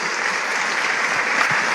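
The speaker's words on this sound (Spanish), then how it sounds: "Denle un fuerte aplauso al Rey de Reyes." A church congregation applauds together in a dense, even wash of clapping that holds steady and loud for the whole stretch, with no voices heard.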